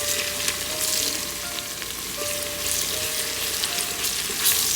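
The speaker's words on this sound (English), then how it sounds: "the onions are cooking into a very nice" Onions frying in a pot for one-pot chicken biryani give a steady, close sizzle with occasional stirring scrapes and a faint tonal hum, with no talking.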